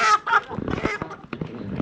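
Chickens inside a coop squawk and cluck close by in short, agitated bursts, with a couple of loud calls at the start followed by scattered clucking.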